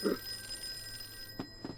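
Telephone ringing in the Call of Cthulhu horror video game: short ring bursts over a steady electronic hum, moderately loud and close, with no talking.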